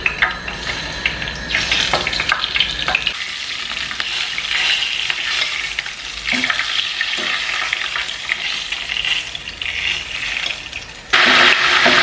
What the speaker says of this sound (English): I'm going to start by frying my fish.